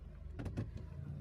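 A car's power window motor hums briefly and faintly as the glass rolls up, a short electric whir with a few soft bumps inside a quiet cabin.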